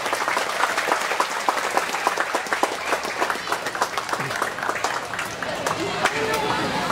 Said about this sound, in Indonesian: Tepuk tangan untuk pramuka